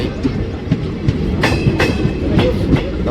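A passenger train rolling into Chital railway station in Gujarat, with a loud steady rumble and rhythmic clickety-clack of wheels over rail joints, heard close from on board.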